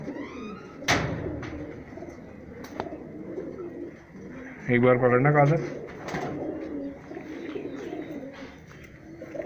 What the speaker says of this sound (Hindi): सो तो ये हैं दोस्तों प्योर टैडी कबूतर